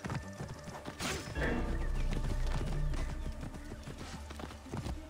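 Horse hooves clip-clop in steady galloping rhythm in Assassin's Creed Origins, loud and close over game ambience, with a brief neigh and some heavier thuds mixed in.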